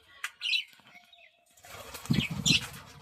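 Budgerigars in a breeding setup flap their wings as they take off, giving a soft fluttery rustle. A few faint chirps mix in, and the wingbeats get louder toward the end.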